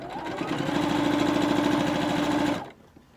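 A sewing machine stitches part of a face mask seam in one steady, fast mechanical rattling run of about two and a half seconds, close and clear, then stops abruptly.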